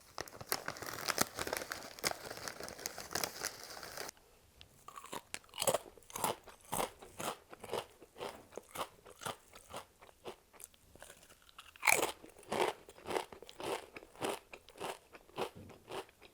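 Crunchy potato chips being bitten and chewed close to the mic, a dense run of sharp, crackling crunches in an irregular rhythm, loud and dry with no talking.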